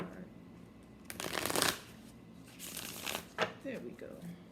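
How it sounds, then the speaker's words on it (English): A deck of tarot cards being shuffled in quick riffling bursts, two main flurries with softer card handling between, close and crisp, with a voice faintly underneath. "I'm trying to get a good shuffle in before"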